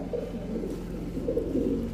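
Pigeons of fancy breeds such as Pakistani teddy, silver, pangkhi and racer, including a muff-footed pair, coo in a steady low murmur close by. The soft throaty calls overlap one another and continue without pause.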